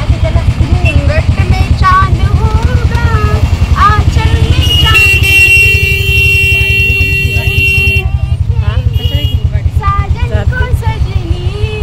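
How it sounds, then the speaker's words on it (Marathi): A motorcycle engine thrums steadily and loudly while riding, with a long horn blast midway and a voice talking over the traffic noise. "ह्या गाडीचा आवाज खळखळ येतोय, त्यामुळे तुम्हाला आवाज येणार नाही"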